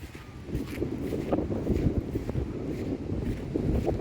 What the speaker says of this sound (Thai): ลมก็วือวืออยู่พี่น้องเอ้ย